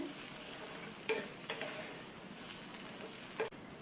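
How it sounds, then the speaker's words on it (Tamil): Eggplant pieces coated in coconut masala are stirred in a frying pan, giving a steady oily sizzle broken by a few sharp spoon scrapes against the metal, with no voices present. "தேங்காய் கலவை எல்லா காயிலையும் கோட்டாகிற மாதிரி நல்லா கலந்து விட்டாச்சு"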